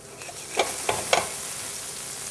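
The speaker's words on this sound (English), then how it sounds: "So we put our onion in our pot with some olive oil." Chopped onion sizzling in olive oil in a pot, a constant crackling fry with a few sharper pops and scrapes of stirring rising briefly above the hiss.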